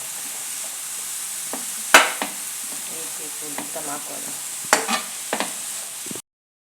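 Onion, tomato, chilli and mushroom fry steadily in a pan with a continuous broadband sizzle, broken by a few sharp clinks and scrapes of a stirring spoon at a close distance; no voices.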